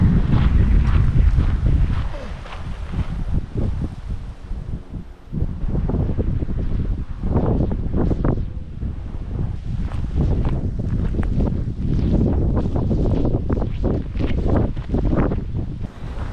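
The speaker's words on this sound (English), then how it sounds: "A little windy today" Gusty wind buffets the microphone in loud, uneven rumbling bursts on a sunny hiking trail at Franklin Parker Preserve, New Jersey, with faint outdoor movement underneath and no speech.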